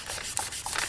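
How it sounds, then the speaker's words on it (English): Brief soft rubbing and scraping as polymer clay is burnished, steady and close, with faint squeaky strokes. "I'm just going to burnish. Get it nice and stuck in there"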